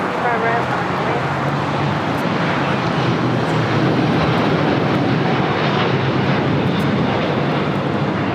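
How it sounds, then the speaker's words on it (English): A LATAM Boeing 787-9 Dreamliner rolls for takeoff at LAX, its engines a loud, steady broadband roar that holds throughout, with a voice talking over it. "And now we have Latam 8087 on the roll. 787-9 Dreamliner taking off to Sao Paulo,"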